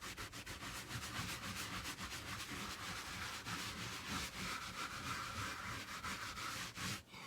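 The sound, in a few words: drying RV ceiling by rubbing with towel rags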